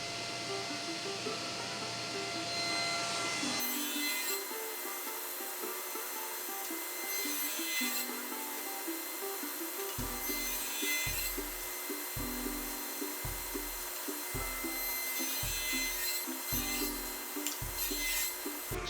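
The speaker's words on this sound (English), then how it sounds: "cut a groove in it to fit over the back edge of the smaller piece so that it would act as a foot" Hand-sawing a groove into a piece of wood for the foot of a wooden tablet stand: a steady bed of noise, then a run of evenly spaced, rasping back-and-forth strokes, close and alone.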